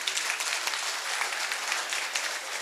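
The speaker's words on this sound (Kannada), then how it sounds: "ತಮ್ಮೆಲ್ಲರ ಜೋರಾದ ಚಪ್ಪಾಳೆಯೊಂದಿಗೆ" An audience at an association inauguration in Mysuru applauds steadily, a dense, even wash of many hands clapping at moderate distance, with no talk over it.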